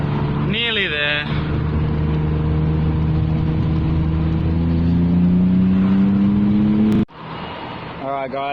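Steady engine drone from a BMW E36 driving down the road with only its last muffler left, a constant low rumble filling most of the clip alongside a voice talking, before it cuts sharply to a quieter cabin near the end.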